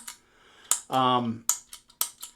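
Sharp, clicky keystrokes from a CHVRCHBVRNER V2 mechanical keyboard land as a handful of separate taps, close and fairly loud, with a short voiced sound among them.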